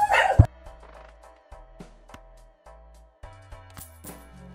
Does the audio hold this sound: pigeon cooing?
no